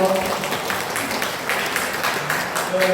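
A crowd at a university students' political endorsement rally for a candidate in Daegu applauds, a sustained, busy clatter of many hands with voices talking through it.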